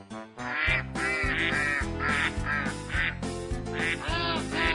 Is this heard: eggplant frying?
no